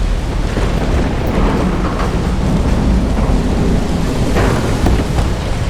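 Heavy rain roars steadily, with low rumbling thunder rolling underneath throughout, loud and continuous.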